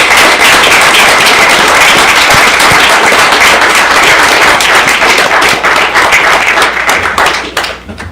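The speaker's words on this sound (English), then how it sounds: "Round of applause." Round of applause at a city council meeting, loud sustained clapping from a roomful of people, fading toward the end.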